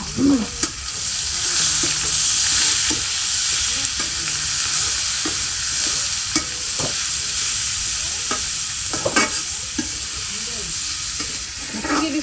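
Raw spices and aromatics for a country chicken curry sizzle loudly in a hot pan, a steady bright hiss broken by scraping stirs and occasional clicks of a utensil.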